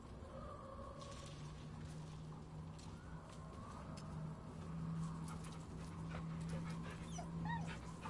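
A dog whimpers and whines in Baldur's Gate 3, a soft, drawn-out tone that wavers on and off across several seconds and rises near the end, set against steady game ambience with faint bird-like chirps.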